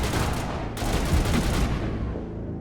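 Turrets firing in Mass Effect, a dense continuous burst of rapid gunfire and booms that starts sharply and then fades out over a couple of seconds.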